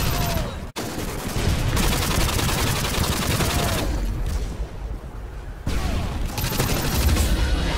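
Dual UMP45 submachine guns fire akimbo in a team deathmatch shooter, loud sustained automatic bursts with a brief gap near the start and a lull midway before the fire resumes.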